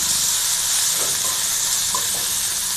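Tomatoes sautéing with onions and green chilies in a pan, a steady close hiss and sizzle that runs unbroken throughout, with no talking.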